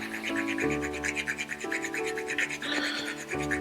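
Whole nutmeg is grated on a microplane for eggnog, giving soft, close scraping strokes over steady background music.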